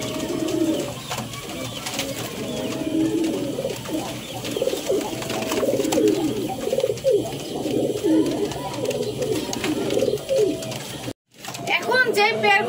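Pigeons kept for sale, including a dyed one, coo in soft, repeated, rolling calls close by, while someone talks over them throughout.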